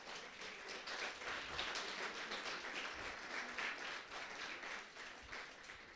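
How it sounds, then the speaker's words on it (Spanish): A church congregation applauds with dense, steady clapping that fills the space evenly for several seconds, with no voices standing out above it. "Denle un aplauso al Dios poderoso."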